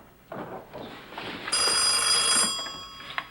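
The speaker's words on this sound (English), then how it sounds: "Ruth Ellen, would you get the phone, please?" An old-fashioned telephone bell ringing in a 1986 period drama home scene, a bright continuous metallic ring rising mid-clip over quiet room sounds and a faint voice before it.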